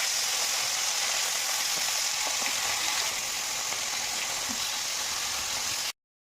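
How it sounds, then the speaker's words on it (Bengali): Rohu fish fries in hot oil for a fish kalia, a steady close sizzling hiss with a few soft pops, fading out abruptly at the end with no voices. "তেলটা গরম হলে মাছটা দিয়ে ভেজে নেব। মাছটা দিয়ে দিচ্ছি।"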